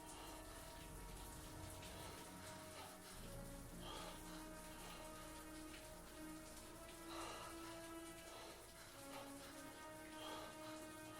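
A steady hiss of running shower water in the video game Heavy Rain, continuous and fairly even, spattering softly for the whole stretch with no voices.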